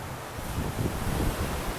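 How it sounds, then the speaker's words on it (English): Ocean surf on the beach at East Cabarete in the Dominican Republic rumbles in a steady low wash, heard from about twenty feet above the water with some wind buffeting the microphone. "There is something about being on the ocean and listening to this sound 24/7"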